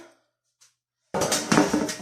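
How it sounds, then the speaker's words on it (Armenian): A metal oven baking tray is picked up with a close clattering scrape after a near-silent pause and a faint small knock. "ջեռոցի տապակն եմ վերցնում"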